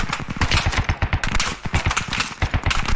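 Rapid bursts of automatic gunfire in the military shooter game Squad, loud and near, firing in quick repeated volleys throughout with barely a pause.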